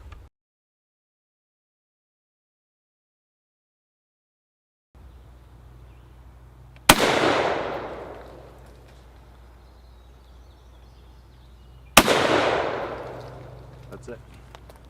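Two loud, sharp shots from a German G41 rifle ring out about five seconds apart outdoors, each followed by a long rolling echo over a low background hum, with no talking.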